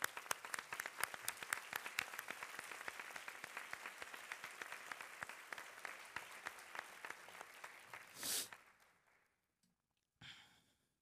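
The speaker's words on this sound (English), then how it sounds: "can we have a round of applause for them?" An audience at an educator summer institute claps for two honored guests, a steady dense patter lasting around eight seconds, then a brief sharp burst and a short second flurry after a pause, with no talk over it.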